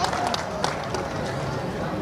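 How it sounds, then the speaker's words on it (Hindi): Loud applause for a Cabinet Minister at the Uttarakhand Mahotsav festival in Lucknow, a large crowd clapping steadily with a busy murmur of voices underneath, continuous and fairly close. "एक बार जोरदार तालियां माननीय कैबिनेट मंत्री भारत सरकार जी के लिए"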